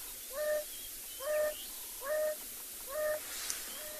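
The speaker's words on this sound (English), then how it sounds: "So that is the sound of a wild dog." An African wild dog call played softly from a phone, four evenly spaced, rising hoo-like calls about a second apart, thin and faint against a hissy outdoor background.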